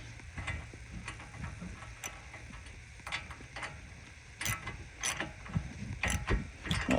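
Socket wrench ratcheting as a tie rod is tightened on a Ford Escape, using a 9/32 socket: quiet, irregular clicking pawl ticks and metallic handling noises close up, fairly faint.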